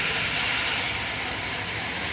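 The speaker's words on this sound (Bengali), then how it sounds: "তো এবার আমি জল ঢেলে দেবো।" Water poured into a hot pan while cooking vermicelli: a loud, steady hiss of water striking hot metal, sustained and close without a break.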